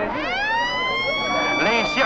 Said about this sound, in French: Les sirènes des embarcations se lamentent